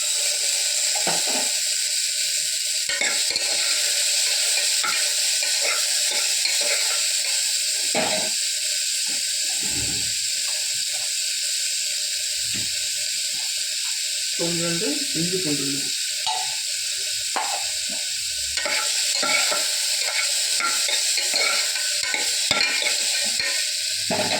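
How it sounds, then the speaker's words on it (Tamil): Tomatoes are stirred in a frying pan with ghee, giving a steady loud sizzle and hiss with repeated scraping and stirring knocks throughout, no talking. "இப்போ தக்காளியை சேர்த்துறோம்"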